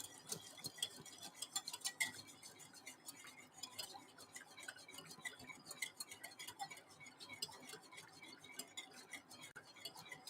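A whisk stirring a cold soba noodle salad mixture in a bowl, with a quick, steady run of faint, close ticking and clinking strokes and no talk.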